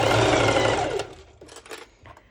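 A sewing machine runs a basting stitch through slippery lycra for a sporty top, with a loud steady whir for about a second that then drops into quieter, intermittent short bursts.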